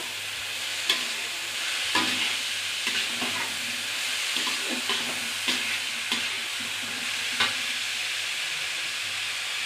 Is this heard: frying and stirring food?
yes